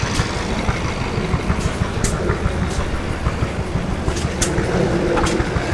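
An old Fairbanks Morse hit-and-miss engine running outdoors, a loud, close, rhythmic chugging and knocking with sharp periodic clacks over a rumbling mechanical bed, no talk.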